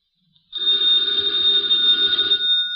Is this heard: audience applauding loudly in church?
no